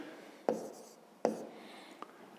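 A pen writes on paper during a 5th-grade maths exercise: two sharp scratchy strokes about a second apart, then a softer tap, quiet and close in a hushed room.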